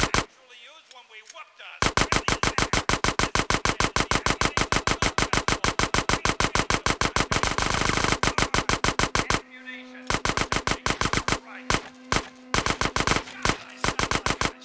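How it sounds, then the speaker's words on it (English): SMG fire in GTA San Andreas comes as loud, rapid automatic bursts: one long sustained stream of shots, then a brief pause and several shorter choppy bursts, with a voice briefly heard at the start. "If I keep shooting it, I'll get double SMGs"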